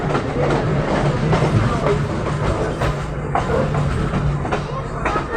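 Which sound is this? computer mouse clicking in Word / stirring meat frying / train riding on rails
train riding on rails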